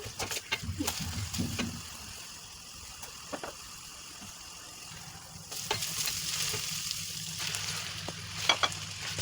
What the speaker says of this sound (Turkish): Soğanla biber biraz soteledikten sonra kıymamızı da ekleyip güzelce kavuralım.